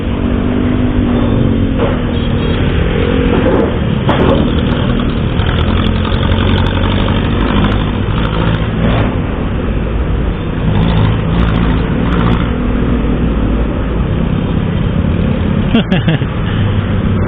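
A jeepney engine idles with a steady low rumble and occasional revs, heard up close on the street while people talk and laugh nearby.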